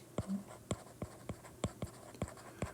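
Chalk strokes on a classroom board during a Korean English-grammar lesson, a run of sharp taps and short scratches about every half second, close and fairly quiet with no talking.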